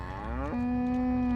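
Companion cows in the video game Goat Simulator give one long, loud moo that slides upward and then holds steady, a close and sustained bovine call with no talking over it.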